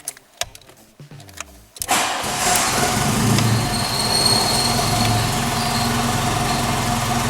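VW Golf Mk3 engine cranking with a few quick starter turns, then catching and settling into a steady loud idle that drones on to the end.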